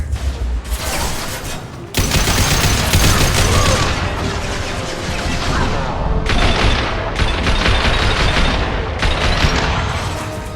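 Sci-fi combat in the video game Mass Effect 2 erupts in loud bursts of rapid gunfire with heavy booms and impacts, a sharp break after two seconds, then sustained volleys that keep stuttering and pausing.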